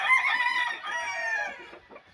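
A rooster crows loudly and close by, a long strained call followed by throaty clucking as it trails off.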